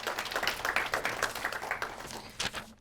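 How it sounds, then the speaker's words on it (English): A morning audience at a federal election debate among women candidates claps for the four candidates. The clapping is moderate and uneven, with distinct individual hand claps in loose bursts that thin out toward the end. "can you join me in giving a round of applause for our 4 candidates?"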